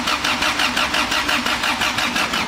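A turbocharged four-door Honda Civic engine cranks over on the starter to build oil pressure, a loud, steady, rhythmic churning that pulses evenly throughout without firing, close by.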